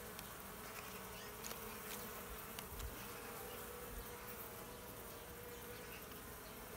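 Honeybees drone in a steady, dense buzz at close range while a hive is opened for inspection, the hum continuous and fairly quiet, with no talking.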